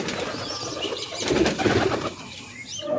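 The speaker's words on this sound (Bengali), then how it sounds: "পায়রা দেখে নেমে আসছে।" Pigeons coo softly at a home loft, with low rounded calls and some faint wing flutter and bird chirps around them, moderately near.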